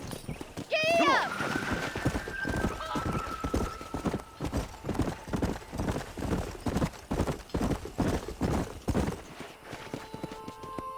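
Horses gallop in Red Dead Redemption, hooves pounding in a fast driving rhythm after a loud neigh, with people talking over the hoofbeats.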